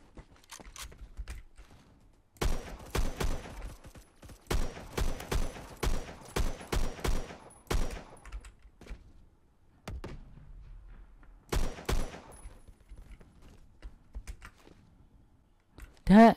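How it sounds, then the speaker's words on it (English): Rapid-fire gunshots in the Roblox shooter Phantom Forces, bursts of loud, evenly spaced shots in several volleys with quiet gaps between, a single close shot at the end. "I don't know, but I'm just shooting."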